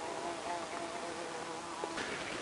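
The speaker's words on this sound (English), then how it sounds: "I don't know if you can still hear the buzzing, but just bear with it. As long as it don't sting me." A stinging insect, likely a wasp, buzzes nearby in a garage workshop, a faint wavering drone over a constant background hiss with small shifts as it moves around.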